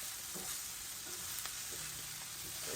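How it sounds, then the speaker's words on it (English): Food sautés quickly in a hot pan while a quick dinner is cooked, giving a steady, soft sizzle with a few faint stirring clicks and no talking. "So I am sauteing it really quickly."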